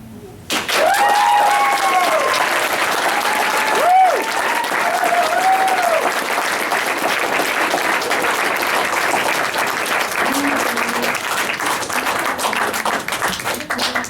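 A crowd at a poetry slam breaks into loud, sustained applause, with a few whistles and whoops rising over the clapping early on, the dense roar holding strong and steady to the end.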